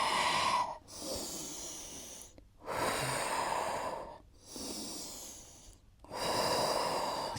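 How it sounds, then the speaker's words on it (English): Heavy exercise breathing during a home workout class: four long, loud, close breaths in and out, each held for about a second or two and divided by brief pauses, with no speech. "Breathe in, breathe out."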